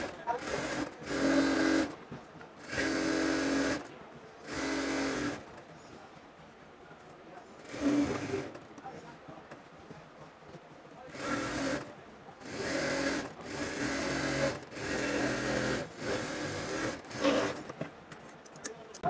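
A sewing machine stitches the side seam of a kameez in several close, loud bursts of rapid whirring, separated by pauses in which someone speaks.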